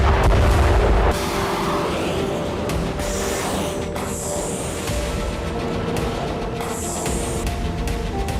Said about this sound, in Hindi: इस बैलिस्टिक विस्फोट को देख लीजिए।